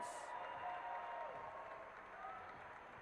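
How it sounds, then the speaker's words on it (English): Audience applause and cheering at the close of a costume contest at a live gaming convention, a steady wash of clapping and crowd noise throughout. "Guys, give them all a round of applause."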